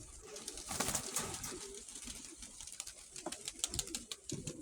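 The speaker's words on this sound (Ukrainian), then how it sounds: "Хорошенька голубка дуже." A blue-grey female pigeon in a loft gives quiet low coos amid faint rustling and wing or foot scuffs, fairly soft and close, with no talking.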